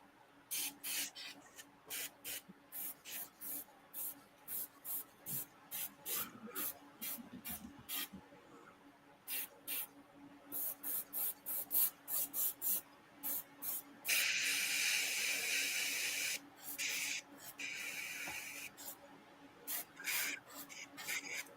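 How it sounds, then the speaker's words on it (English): Short hissing bursts of spray paint hit a model figure of Toadie from Mad Max. The quiet puffs come in quick, irregular pulses, with one longer continuous spray in the middle. "I'm not worried about overspray on this because I got to paint that."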